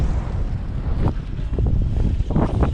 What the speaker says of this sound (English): This wind is blowing me off.